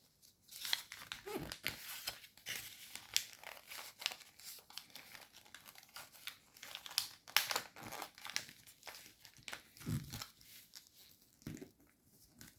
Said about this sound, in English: So next you're going to squash fold the flap.